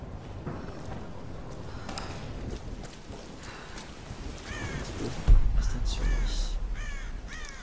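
A bird in the Tomb Raider video game caws repeatedly in short, rising calls. The calls sit over steady game ambience, and a louder low rumble with hoof-like clopping enters partway through.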